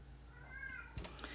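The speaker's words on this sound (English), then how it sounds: "Yes, there is a cat crying." A cat in a home craft room gives a single faint, drawn-out meow in the background, followed by a few soft clicks and taps nearby.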